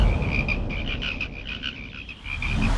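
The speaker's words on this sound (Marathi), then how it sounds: "या राऊंड मध्ये येतील बेडकं." A bucket full of frogs brought out for a game-show round croaks in a dense, continuous chorus of rapid repeated calls, close and loud, with no talk.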